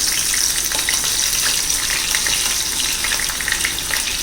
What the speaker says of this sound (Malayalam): ആദ്യം നമുക്ക് ചെമ്മീനൊന്ന് വറുത്തെടുക്കാം.